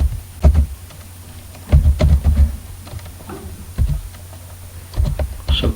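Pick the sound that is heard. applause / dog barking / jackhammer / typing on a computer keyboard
typing on a computer keyboard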